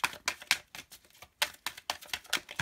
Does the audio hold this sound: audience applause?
no